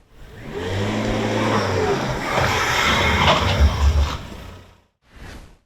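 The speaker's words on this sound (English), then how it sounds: "does your XC60 sound like this when you come to a stop?" A 2011 Volvo XC60 P3 slows to a stop with a low engine and road rumble that swells into a rough, grinding brake noise from worn pads and discs, then fades, with a brief final bump.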